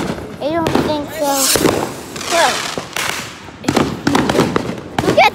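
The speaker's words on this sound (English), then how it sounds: "Look at the fireworks." Fireworks burst in a series of sharp bangs and crackles, several loud explosions spaced irregularly, while people talk and call out nearby.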